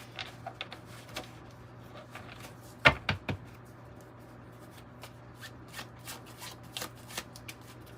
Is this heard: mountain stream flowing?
no